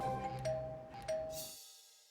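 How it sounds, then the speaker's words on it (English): A two-tone ding-dong chime rings twice in a quiet room, each note ringing out briefly before fading to silence. "literally have to ring the doorbell"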